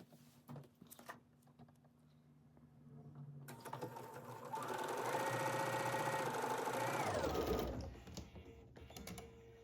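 Sewing machine running a scant quarter-inch seam on a quilt block, starting with a few light clicks before a steady, close, humming run of several seconds that stops abruptly, without speech.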